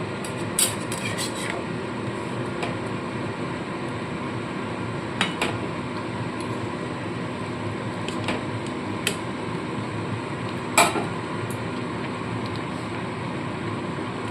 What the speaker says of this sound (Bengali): ঢাকা চাপা দিয়ে দিলাম তো দেখুন বন্ধুরা গ্রেভিটা ফুটতে শুরু করেছে